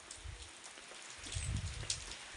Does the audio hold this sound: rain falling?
yes